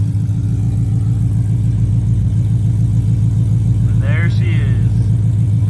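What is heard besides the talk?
built Ford Mustang GT engine running and revving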